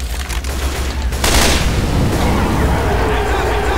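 Loud, continuous gunfire firing incendiary ammo in the zombie shooter Left 4 Dead 2, a dense roar of shots and burning that swells after the first second.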